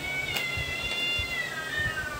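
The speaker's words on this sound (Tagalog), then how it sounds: "Ang haba naman ng miyaw mo." A cat meows in a long, drawn-out wavering call indoors, fairly close and clear, with a bit of background rustle and no talking.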